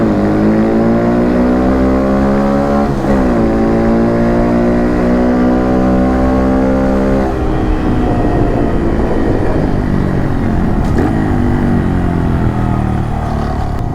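A Honda Monkey motorbike rides through the Daytona International Speedway tunnel, its engine buzzing loud and close with rising revs and gear shifts echoing off the enclosed walls.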